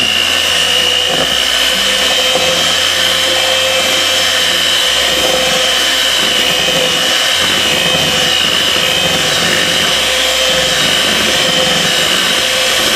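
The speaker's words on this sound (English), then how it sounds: "I'm going to get used to a hand mixer" An electric hand mixer whirs steadily and close by as it creams butter, sugar and molasses for gingerbread cookies, its motor pitch dipping and recovering as the beaters work through the thick mixture.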